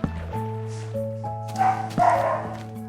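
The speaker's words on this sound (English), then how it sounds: "there's a dog outside" A dog barking outside during a Minecraft Alpha let's play, with a few short yips rising over steady game music, moderately loud and somewhat distant.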